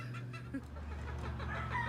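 Soft, close clucks and murmurs from chickens grazing on a farm repeat in a steady, low chatter, with a faint rooster-like call in the background.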